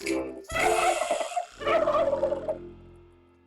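Two loud, warbling turkey gobbles in quick succession, close by, trailing off into quiet.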